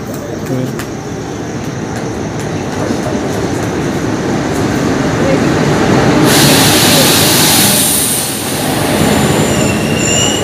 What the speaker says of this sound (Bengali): আমরা এখন ট্রেন আসা পর্যন্ত অপেক্ষা করি।